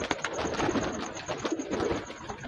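A female pigeon cooing continuously up close, with soft bird calls and fluttery rustle throughout.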